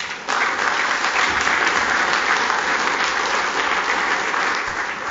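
Audience applause during a mayor's State of the City address, a sudden onset of full, steady clapping from a large crowd that holds evenly throughout with no talk.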